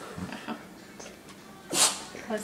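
One person sneezes sharply near the end, after a couple of quieter sniffs and breaths, in an indoor room with faint speech nearby.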